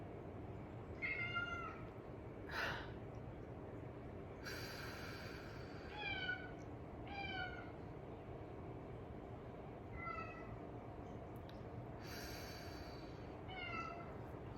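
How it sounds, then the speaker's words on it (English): Several domestic cats meow repeatedly indoors during a quiet guided meditation, with short, clear calls coming every second or two over a low background hum. "You can hear my cats, they're talking a lot."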